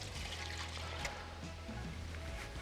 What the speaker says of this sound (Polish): Tacka aluminiowa ląduje na jednym z aromatyzerów, a tutaj pojawia się sok jabłkowy.